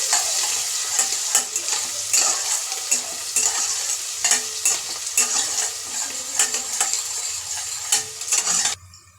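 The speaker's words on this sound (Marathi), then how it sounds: "बारीक चिरलेला कांदा, कढीपत्त्याची पानं, याला चांगलं आता परतून घेणार आहे।" Chopped onion and curry leaves sauté in a hot pan with asafoetida, giving a steady close sizzle with repeated scraping and stirring strokes throughout and no voices.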